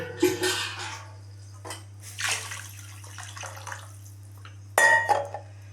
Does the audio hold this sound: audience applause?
no